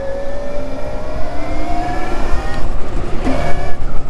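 A Lycke Busan110 electric motorcycle motor whines up in a rising, revving tone, loud and close, with short bursts of acceleration near the end.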